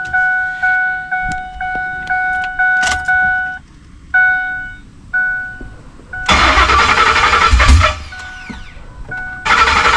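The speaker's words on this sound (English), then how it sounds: "You hit it with some starter fluid and it'll try to crank off." A 2005 eleventh-generation Ford F-150 with a newly installed engine, dosed with starter fluid, cranks in a steady repeated whir-whir of the starter several times, then catches and roars loudly to life before settling, all close up without talk.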